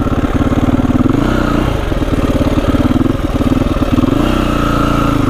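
A Husqvarna 510 SMR supermoto motorcycle engine thumps at a loud, close idle with quick throttle blips that lift the revs and settle back, its rapid single-cylinder pulse steady throughout.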